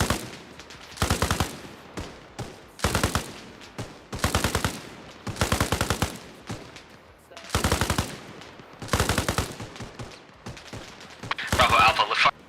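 Bursts of automatic gunfire in the military shooter game Arma Reforger, repeated rhythmic volleys roughly every second or two, loud and close, with a denser crackling burst near the end.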